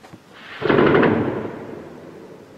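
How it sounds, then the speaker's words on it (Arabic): A single heavy gunshot booms in a city, sharp onset followed by a long rolling echo that fades over a couple of seconds. "إطلاق الرصاص العشوائي قبل كتائب الأسد على منازل المدنيين العزال."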